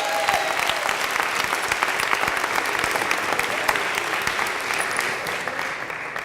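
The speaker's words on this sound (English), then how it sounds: "Another round of applause for all." Audience at a community poetry reading breaks into warm, continuous applause, steady dense clapping that tapers slightly toward the end.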